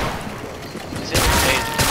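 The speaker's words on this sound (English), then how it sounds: "Grenade!" A grenade blast erupts in the Roblox game Criminality, a sudden loud broadband burst that cuts in midway and sustains over the game's background noise.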